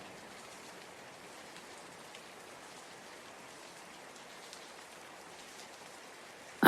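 Steady rain hiss falls evenly throughout, a soft continuous patter with no voices, then a brief louder bump right at the end.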